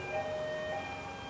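A fire engine siren wails steadily, its held tone rising and falling slightly over a constant road-noise bed, heard alone without voices.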